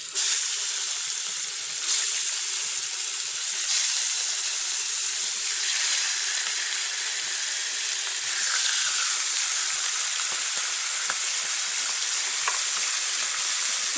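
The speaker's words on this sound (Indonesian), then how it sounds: "sekarang kita bisa goreng ikannya" Fish fries in hot oil in a wok, giving a loud, steady, close sizzle and hiss that holds unbroken throughout, with faint pops and scrapes underneath.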